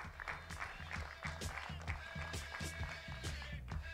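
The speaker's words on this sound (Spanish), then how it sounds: "Fuerte el aplauso." Moderate audience clapping at a certification award ceremony, with irregular claps over a murmuring room and faint voices underneath, fairly quiet and steady.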